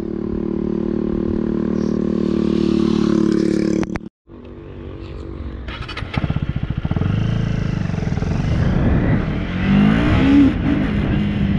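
A KTM Duke motorcycle being ridden: loud, close engine drone that rises in pitch, cuts out sharply for a gear change, then revs again with rapid popping and climbing acceleration.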